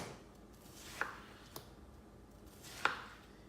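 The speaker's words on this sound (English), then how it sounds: "At some point I will start cutting it into thinner slices, like this." A knife cuts through a quartered watermelon into thin slices, giving three soft, separate chops with faint crunchy swishes against a quiet background.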